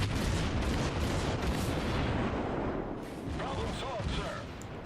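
Naval guns firing and shells striking ships in World of Warships, a dense run of booming blasts and rumbling impacts with a voice talking over them throughout.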